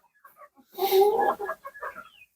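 Andijon black chickens clucking in a short burst of several overlapping calls at close range, then a few fainter clucks trailing off, with no talk.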